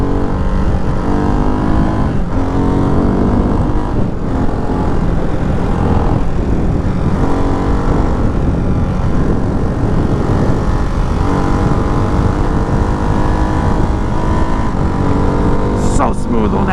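A Ducati Hypermotard 698 Mono RVE motorcycle roars continuously under heavy wind rush while being ridden, its engine note dipping briefly and rising again at a few quick-shifter gear changes, loud and close throughout.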